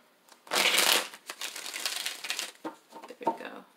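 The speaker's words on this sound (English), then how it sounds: "Okay, one more shuffle." A deck of tarot cards riffled and shuffled up close, a dense flurry of crisp flapping, then a few lighter taps and slides as the cards settle.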